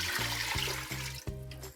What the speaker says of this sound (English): We're gonna get started with 3 cups of water. I'm just gonna pour that in